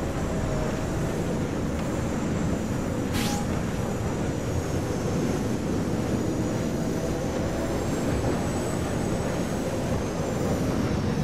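Bombers flying in during a Star Wars Battlefront battle, a steady loud roar of engines that holds for the full length, with a brief sweeping whoosh passing early on and no voices.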